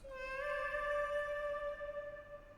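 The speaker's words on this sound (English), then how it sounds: "The last melody I added were some vocals I sang in myself." A self-sung vocal line with pitch correction, two delays and reverb: one sustained, smoothly held note that swells and then trails off into a soft tail.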